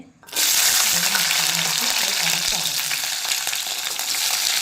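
Whole spices crackle and sizzle in hot oil for a tadka, an egg curry with green coriander on the stove. A loud, steady hiss begins suddenly and holds throughout, with faint stirring underneath.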